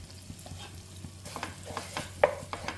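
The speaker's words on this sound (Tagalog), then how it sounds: "dyan ko na isusote ang ating bawang" Garlic sautés in a little butter in a pan, a soft steady sizzle broken by repeated scraping stirs of a utensil and one sharper clink, all close by with no talking.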